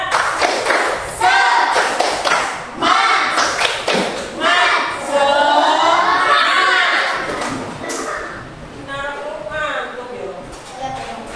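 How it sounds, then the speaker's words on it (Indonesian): A classroom of children chants and claps a rhythmic spirit clap (tepuk semangat), with sharp hand claps and thumps in bursts under loud, lively group voices. "Tepuk semangat"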